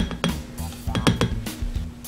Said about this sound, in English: And 1/2 cup of ice.